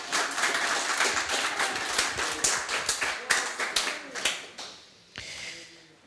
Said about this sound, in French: Oui, oui, vous pouvez acclamer le Seigneur.